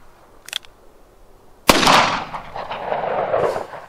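.38 Special +P gunshot from a 4-inch revolver firing Federal Punch hollow-point ammunition outdoors: a faint tick first, then one sharp loud report with a long rolling echo trailing away.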